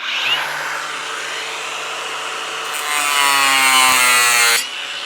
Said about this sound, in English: See how strong the grinder is.